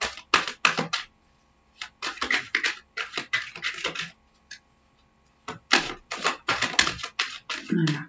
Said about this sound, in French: Je brasse un peu les cartes pour les énergies.